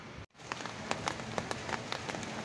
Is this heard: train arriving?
no